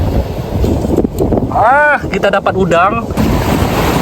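Strong wind roars steadily across the microphone on an island beach, loud and continuous, with a person talking over it.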